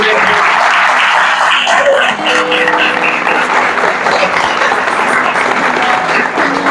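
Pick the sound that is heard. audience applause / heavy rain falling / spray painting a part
audience applause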